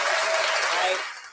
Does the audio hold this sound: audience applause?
yes